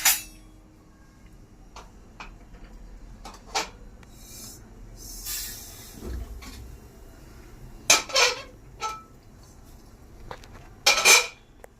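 Roasted poppy seeds being scraped out of a pan, with scattered metallic clinks and scraping rubs, a few sharper spoon-on-pan taps standing out against quiet background, nearby and fairly faint.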